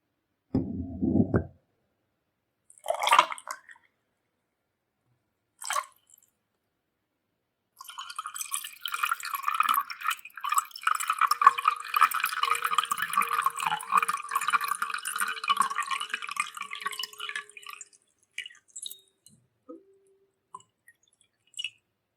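Water trickles and splashes for a floating candle in a calm relaxation setting: a few brief drips and pours early on, then a steady close stream of bright splashing for about ten seconds before it stops, with no voices.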